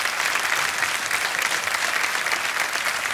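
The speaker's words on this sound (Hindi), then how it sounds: "तालियां बजती रहें इनके लिए" A studio audience on the Kaun Banega Crorepati game show applauding, a loud dense roar of clapping that holds steady and unbroken for the whole stretch.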